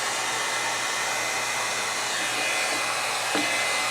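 A one-inch hot air brush styling high-quality synthetic wig hair, its motor and airflow giving a steady, loud whooshing hum that runs unbroken throughout.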